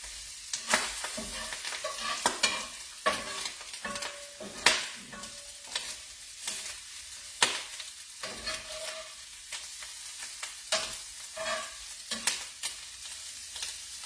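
An egg fries in a pan, with steady crackling sizzle running throughout and sharp spattering pops and occasional utensil clicks scattered across it; no one speaks.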